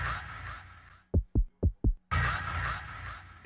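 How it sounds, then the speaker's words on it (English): Four heavy thumping heartbeats from the Postal 1 video game menu pound in quick succession, deep and close, set between stretches of dense droning noise. "Already there are all these heartbeats and screams."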